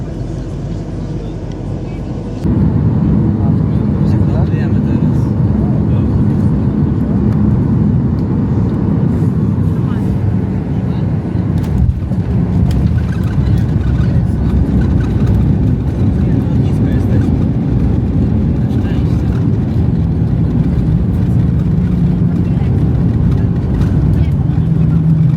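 Steady low broadband drone of a Ryanair airliner cabin while circling in a holding pattern before landing, continuous and even after a brief quieter opening, with faint murmuring voices beneath.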